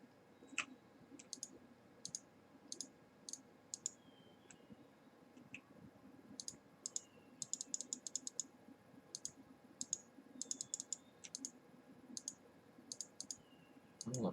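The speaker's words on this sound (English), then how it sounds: "Now to take out of this drawer, just simply left click" Sharp, quiet mouse clicks from a Minecraft session, some single and some in quick bursts, sit over a low background hum. Occasional faint talk can be heard underneath.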